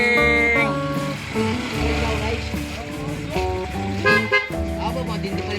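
Motorcycle horn honking in loud, tonal bursts of varying length, repeated several times, with people talking over and between the blasts.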